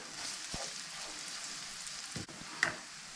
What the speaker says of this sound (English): I'm going to cook the spices for a minute.